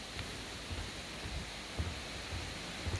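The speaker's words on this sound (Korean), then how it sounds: "벌써 물소리 좀 크게 들리죠?" Water roaring at Bidulginang waterfall by the Hantan River in Pocheon, a faint, steady broadband rush with no break, heard alone from a short distance with a few soft low bumps.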